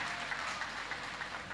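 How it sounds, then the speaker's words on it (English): Audience at an innovation week award ceremony applauding, a dense, even wash of many hands clapping at moderate distance, short and steady with no speech over it. "Let's appreciate the PS with a beautiful round of applause one more time."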